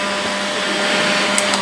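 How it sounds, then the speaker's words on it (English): A small vacuum cleaner sucks up loose deer hair at a fly-tying bench, producing a loud, steady, close whir with a couple of faint ticks near the end and no voices. "going to take 30 seconds to vacuum up all this deer hair that's everywhere."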